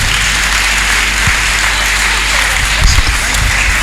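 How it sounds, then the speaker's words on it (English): Church congregation clapping in praise during a healing service, a dense steady wash of hands under loud continuous noise, with a few low thumps near the end. "Clap more for Jesus Christ."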